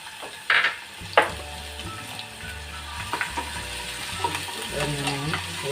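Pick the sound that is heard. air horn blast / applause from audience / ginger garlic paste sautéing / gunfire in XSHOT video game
ginger garlic paste sautéing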